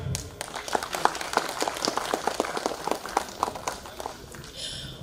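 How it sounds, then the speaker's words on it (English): Audience clapping at a formal ceremony in Tripura, a moderate round of claps with some uneven, distinct hand strikes that rise and then taper off near the end. "A big round of applause for him."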